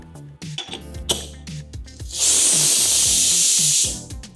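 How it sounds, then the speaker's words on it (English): A 1-litre pressure cooker cooking corn pulao lets out a loud, steady steam hiss lasting under two seconds, after a series of small clicks and taps, heard up close. "Now, let's pressure cook the corn pulao."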